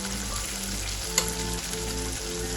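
Two chopped medium tomatoes sizzling in a hot pan of oil for dhaba-style Kathiyawadi sev tameta curry, a steady close frying hiss with a single brief clink, no talking.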